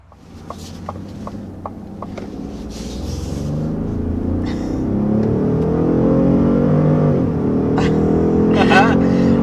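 A hybrid truck powered by a 3.5-liter twin-turbo V6 accelerates hard, its engine note rising and swelling steadily louder and nearer as it gains speed, with a few brief clicks and chirps at the start.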